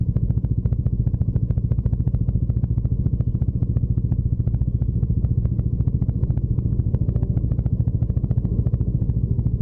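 A motorcycle rides along the road toward Chapaguri crossing on an Arunachal Pradesh trip, its engine a steady, even low thump close up and continuous without pause.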